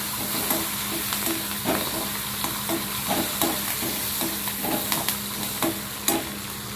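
Okra fries in a pan for a chutney, giving a constant soft sizzle with regular scraping stirs of a spoon against the pan, close up and without speech.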